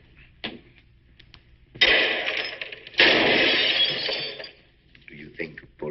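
Two loud gunshot blasts ring out in an old 1948 film scene, each followed by a long, harsh rumbling tail. Quieter sounds come before and after them.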